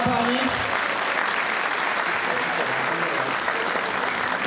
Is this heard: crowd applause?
yes